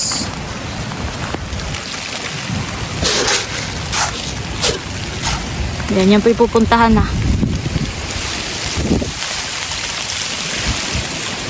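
Steady rain roaring down with gusty wind buffeting the microphone, while a person talks briefly partway through.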